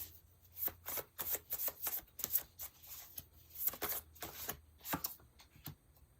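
Tarot cards being shuffled by hand in a quiet room, a run of crisp riffling and soft slapping bursts in an uneven rhythm, close and fairly faint, with no talking.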